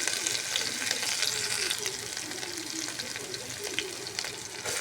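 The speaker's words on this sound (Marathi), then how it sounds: "आता तेल गरम झालं, मस्त थोडं जिरं टाकते, मिरची लसूणचा ठेचा टाकते" Cumin seeds and a crushed green chili-garlic paste hitting hot oil for rice-and-moong khichdi, a steady close sizzle with faint crackles throughout, no talking.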